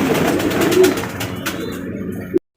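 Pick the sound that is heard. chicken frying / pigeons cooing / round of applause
pigeons cooing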